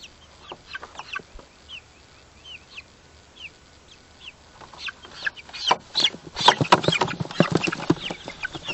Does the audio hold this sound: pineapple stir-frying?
no